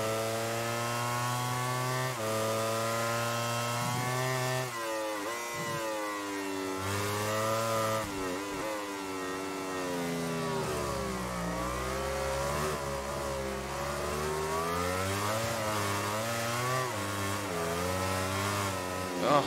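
A MotoGP racing motorcycle in MotoGP 17 at the French Grand Prix, its high-revving engine screaming loudly and continuously, climbing and dropping in pitch through gear changes on the final lap.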